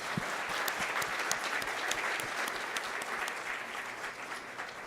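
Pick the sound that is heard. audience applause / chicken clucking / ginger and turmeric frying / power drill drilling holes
audience applause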